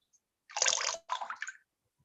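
Water is strained from mashed mango pulp in two brief splashing, trickling bursts separated by a short pause, close and fairly quiet.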